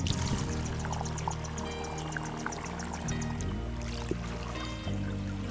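A liquid fertilizer or herbicide mixture pours into a container while calamansi trees are tended, a steady splashing gurgle over a continuous low engine hum, with a brief break partway through.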